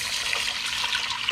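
Water pours steadily into a pot of lentils on the stove, a continuous close splashing trickle with no talking.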